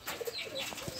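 Pet pigeons kept by a breeder coo softly in short, close murmuring calls, with a faint rustle that may be wings, over a brief quiet stretch.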